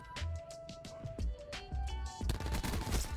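Scorpion gun in Call of Duty firing rapid automatic bursts, close and loud, with fast repeated shots broken by short pauses and denser fire toward the end.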